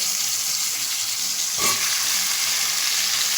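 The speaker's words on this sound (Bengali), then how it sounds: "গরম হয়ে গেছে মাছটাকে ছেড়ে দেব" Fish dropped into hot oil in a home kitchen sizzles with a loud, steady hiss, swelling briefly as it hits the pan, with no talk.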